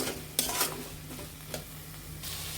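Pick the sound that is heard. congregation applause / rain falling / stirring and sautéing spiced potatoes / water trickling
stirring and sautéing spiced potatoes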